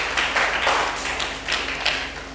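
A church congregation claps to acclaim the Lord, a dense, close burst of applause that swells and fades in uneven waves.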